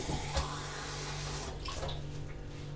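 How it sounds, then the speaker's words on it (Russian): Tap water runs steadily from a faucet into a drinking glass, a continuous close splashing pour that holds even from start to finish with no voices. "Теперь иду под кран, наливаю пока один стакан."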